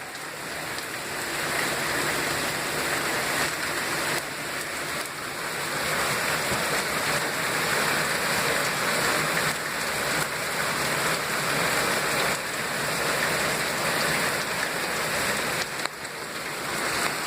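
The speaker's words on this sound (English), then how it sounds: "But as you can see, it is pouring down rain." Heavy rain pours down outdoors in a dense, continuous hiss of drops hitting surfaces, loud and steady throughout with no talking.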